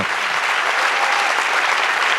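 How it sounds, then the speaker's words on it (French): An audience claps loudly and continuously to welcome a stand-up comedian guest onto a comedy show stage, a thick, unbroken wash of applause. "qu'on peut applaudir bien fort"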